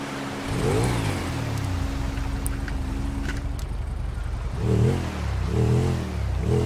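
A KTM RC390 motorcycle engine in GTA 5 drones steadily, then revs up and down in several rising and falling surges toward the end, loud and close.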